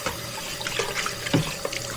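Tap water runs and splashes steadily while a Nama M1 juicer is rinsed in a sink, a soft continuous flow with small irregular splashes and drips, no voices.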